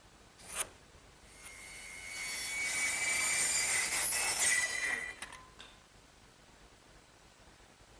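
Hand saw cutting off the end of a wooden board, heard as a short burst of rasping strokes rising in the middle and fading out, with a couple of clicks before and after, fairly close and moderate in level.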